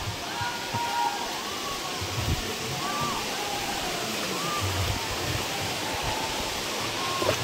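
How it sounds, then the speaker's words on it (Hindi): Chingara Pagaar waterfall in Gariaband district, water pouring down from above in a steady, loud broadband roar that holds unbroken throughout, with faint bird calls above the rush. "झरने का आवाज़ सुन सकते हैं हम लोग पानी गिर रहा है ऊपर से"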